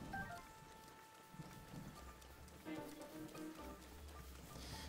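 Rain in The Legend of Zelda: Breath of the Wild, a faint steady patter of falling drops mixed with low rumbling game ambience and soft thuds, no talk over it.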